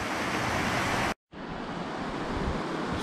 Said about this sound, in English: we're constantly walking along the river here